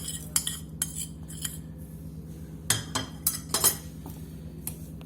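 A spoon scrapes and clinks against a bowl while salt, chili and other spices are mixed into mashed potatoes for a sandwich filling, giving irregular metallic taps and stirring clatter close up, without talk.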